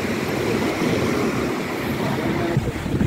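Sea waves rolling onto the shore at Cadiz, Spain, a steady, dense broadband wash of surf and wind, continuous and fairly loud with no voices.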